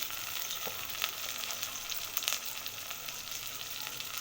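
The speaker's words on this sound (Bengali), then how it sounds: "পেঁয়াজটা লালচে হয়ে আসছে একটু তো আমি চিংড়ি মাছ দিয়ে দিচ্ছি" Shrimp frying with reddening onions in a pan, giving a steady, close sizzle with a few brief crackles and spatters, heard alone without talk.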